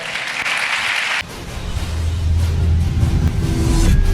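Applause and cheering from a church congregation, a dense, steady mass of clapping and voices that swells louder toward the end.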